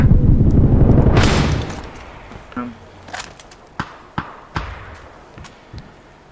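Video game gunfire in PUBG crackles in a dense burst, then a string of sharp, separate shots pops out one by one, loud and close, with some talk underneath.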